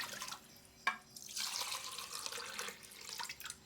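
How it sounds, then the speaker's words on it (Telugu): Water is poured into a pressure cooker, a fairly quiet gushing splash that starts after a single sharp clink and runs for a few seconds, with no one speaking. "ఇప్పుడు కుక్కర్లోకి నీళ్లు కొలుచుకుందాం"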